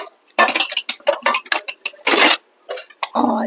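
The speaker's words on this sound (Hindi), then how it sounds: "तो यहाँ पर वही मैं बर्तन धुल रही हूँ" Steel utensils and dishes being washed at home, with repeated clinks, clatters and splashing scrapes in irregular bursts, close and fairly loud, no talk.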